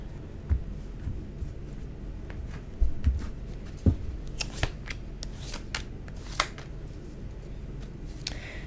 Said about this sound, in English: I'm going to go ahead and pull some more tarot cards.